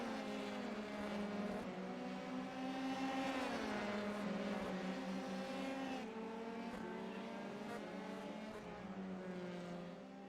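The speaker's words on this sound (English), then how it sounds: "Now there are some other cars out on track" Race cars drone along the track in a German Grand Prix round, engines rising and falling in pitch as they accelerate and shift, a continuous moderately loud engine whine without talk.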